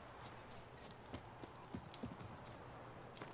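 Horse hooves clip-clop in a few faint, irregular steps within The Witcher 3, heard over a low, steady game ambience with no talking.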